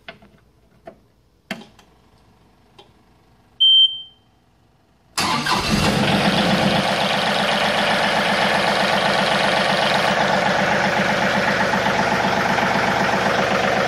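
A 2017 John Deere 2032R compact tractor: a few faint clicks and a short beep, then the engine cranks and catches and settles into a steady, loud idle that runs on without pause.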